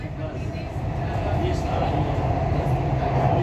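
A Dubai Metro train runs toward Airport Terminal 3, giving a steady, loud rumble and rolling hum from inside the carriage that holds an even level throughout with no break.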